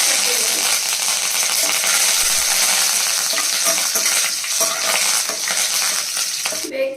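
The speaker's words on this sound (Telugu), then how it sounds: "ఇప్పుడు ఒక స్పూన్ జీలకర్ర వేయాలి ఇవన్నీ ఇలా వేగిన తర్వాత" Cumin seeds and dried red chillies fry in a pan in steady hot oil, a continuous loud crackling sizzle with scattered small pops throughout.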